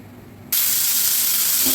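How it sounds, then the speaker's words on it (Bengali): Onions hitting hot oil in a pan burst into a loud, steady sizzle after a brief quiet moment, hissing close and continuous to the end. "তো এখানে আমি পেঁয়াজগুলো দিয়ে দেবো।"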